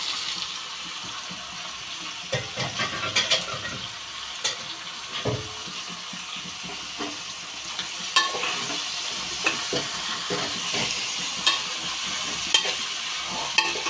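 Chopped onions frying in a pan for a raw prawn and green mango dish produce a quiet steady sizzle, punctuated by repeated scraping and tapping from stirring.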